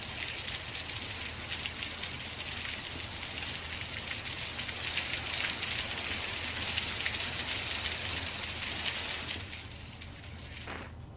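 Steady rain pours down in Uttarakhand amid heavy rain and snowfall, a dense, even hiss of drops on surfaces that holds for several seconds before easing slightly near the end, with no voices.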